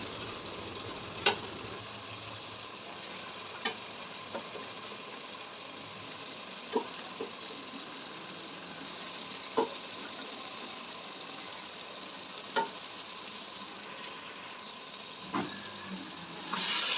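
Boiled mutton pieces frying in masala in a pot, giving a soft, steady sizzle broken by a few sharp stirring clicks of a spoon against the pan, close and fairly quiet with no speech.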